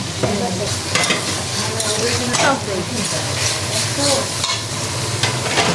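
Red chilli powder, cloves, green cardamom and bay leaves sizzle loudly in a hot pan with garlic and ginger paste, a steady close frying hiss broken by stirring scrapes throughout.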